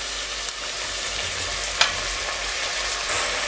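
Red and green peppers with peeled, diced potatoes sauté in a pot, giving a steady close sizzle broken by a few short clicks of stirring.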